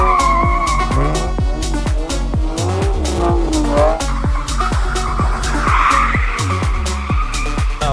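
A Chevrolet Camaro with new exhaust piping revs hard, loud and close, giving a run of sharp throttle blips and rising, falling engine roars with no pauses.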